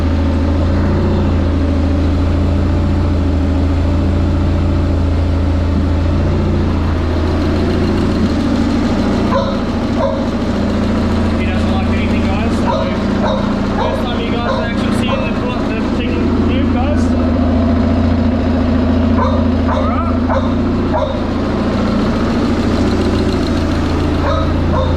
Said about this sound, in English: Running jet boat now